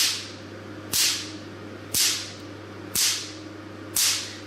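Sharp, loud snaps ring out at an even one-second pace as a picosecond laser fires its short pulses, five in all, above a constant low hum from the unit.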